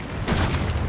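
A gunshot from Resident Evil 7: Biohazard cracks out loudly and fills the short moment with a dense, booming blast that holds steady to the end, with no talk over it.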